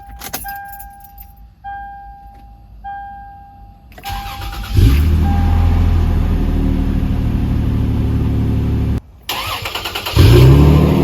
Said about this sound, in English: It doesn't sound like that normal Toyota FJ, Tacoma, or 4Runner startup. It sounds like a car startup.